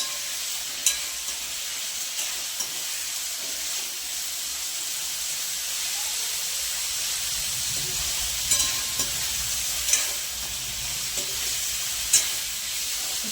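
Cauliflower frying in oil for a spiced cauliflower dish, a constant hissing sizzle with occasional faint clicks of stirring, close and steady.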